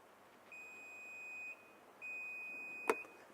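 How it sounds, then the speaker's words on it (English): Inside a Nissan X-Trail, the memory-setting button gives two sustained electronic beeps, each about a second long with a short gap between, followed by a brief sharp click; the car is otherwise quiet. "hold the button until it beeps"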